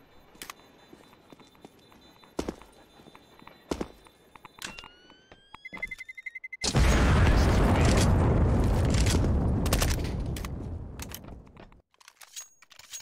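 Pistol and SMG fire in CS:GO on the Train map, heard as scattered sharp shots early on, then a long, loud burst of dense sustained fire that fades out near the end.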